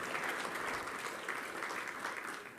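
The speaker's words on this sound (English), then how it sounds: "Let's give them a big clap." An audience in a church claps, producing dense, steady applause that stays even and sustained from start to finish.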